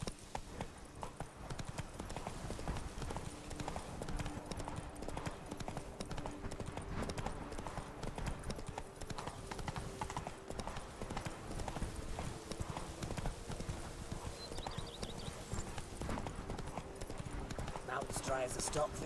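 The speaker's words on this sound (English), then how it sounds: "Run, Roach" Steady rhythmic hoofbeats of a horse galloping in The Witcher 3, loud and continuous throughout, with occasional snorts and ambient game sounds underneath.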